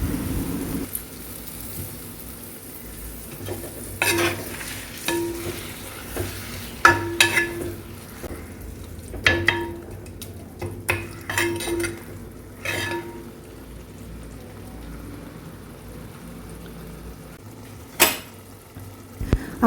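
Boneless fish pieces are mixed into masala and cooked over low heat, a soft sizzle running under intermittent spoon scrapes and clinks against the pan, with no voices.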